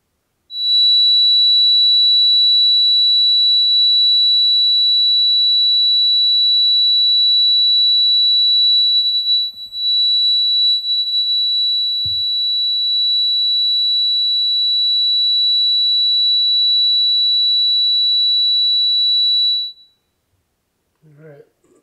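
A 3936-hertz test tone for a cymatics demonstration, a loud, steady, piercing whine holding for about nineteen seconds before cutting off, with a faint thump midway and a little soft noise after it stops.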